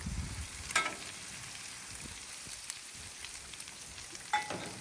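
Bacon frying on a Loco griddle gives a faint, steady sizzle with a couple of brief louder pops or crackles.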